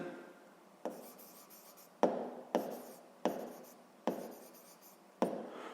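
Handwriting on paper, with a pen scratching out short strokes; six or so distinct bursts each start sharply and fade, close and quiet, with no voices.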